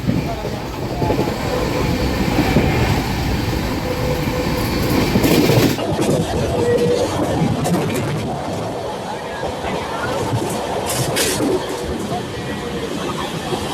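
Ratnachal Express running at speed on its first run with new LHB coaches, a loud steady rumble and rattle of wheels on track heard from onboard, with a voice talking over it.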